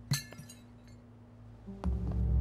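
Broken glass clinks and tinkles in the survival game VEIN, with a sharp crack at the start, a few light rattles, then a heavier crunch and low rumble near the end.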